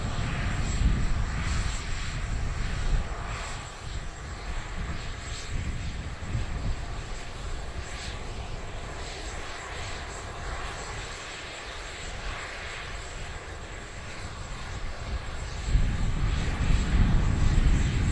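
A Delta airliner, flight DL177 bound for Atlanta, taxis at Dublin Airport after a rejected takeoff, with hydraulic fluid leaking. Its engines give a steady, fairly distant roar that swells slightly near the end.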